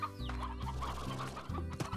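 A hen clucks in the video game Slime Rancher, an old bird whose egg-laying days are over, with several short, close clucks in a broken rhythm and no talk.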